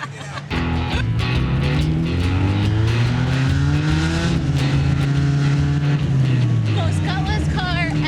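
A $500 junker car's engine strains hard through an off-road rally, a loud, sustained drone whose pitch climbs and falls with the revs, close and continuous with no talk over it.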